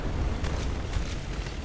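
Grenade launcher blast in Resident Evil 6, a sustained rumbling explosion with crackling bursts that stays loud and dense throughout, with no talk over it.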